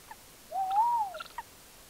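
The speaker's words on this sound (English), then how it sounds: "this is Jazz, my tawny owl" A single tawny owl call, a faint, drawn-out rising and falling note lasting under a second, with a few soft clicks around it in a quiet setting.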